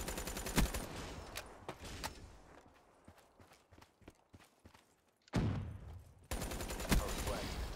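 Light machine gun fire in a PC capture-the-flag shooter: loud rattling bursts at the start and again near the end, with quieter scattered shots and thuds in between.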